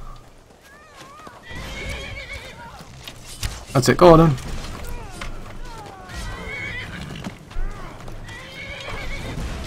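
Horse in the game Skyrim neighs and whinnies loudly amid clip-clopping hooves, with someone talking over much of the action and battle noise throughout.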